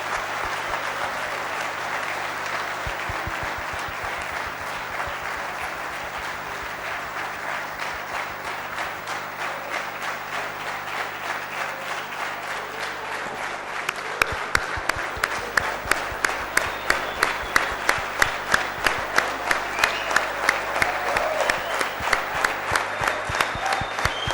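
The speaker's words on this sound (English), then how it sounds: "A big round of applause for Mr. Imran Khan." A large seminar audience at a Lahore management and HR summit gives sustained applause for Imran Khan, steady dense clapping for over twenty seconds that grows into louder, rhythmic unison claps toward the end, with no talk over it.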